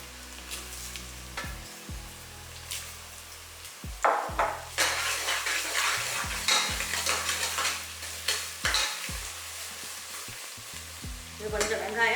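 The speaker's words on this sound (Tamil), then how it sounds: "இது கொஞ்சம் வெங்காயம் நல்லா சிவக்க வதங்கட்டும்." Onions sautéing and sizzling in a pan for coconut milk mutton biryani, a steady close fry with repeated stirring scrapes and spoon knocks against the pan, no talking.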